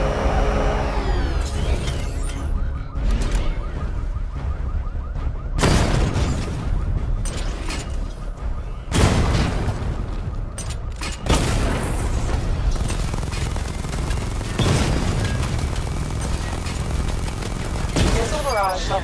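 Targets burst in a rapid string of explosions and weapon fire in the Batman: Arkham Knight simulation, loud booms and crackling blasts coming in clusters with a synthetic voice speaking over parts.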